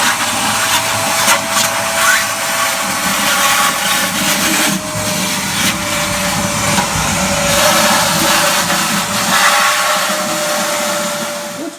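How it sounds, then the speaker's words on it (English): A wet vacuum drones loudly and steadily as it sucks water out of a toilet tank, with gurgling, rushing air noise and no voices heard. "We're going to go ahead and start removing the water inside the tank."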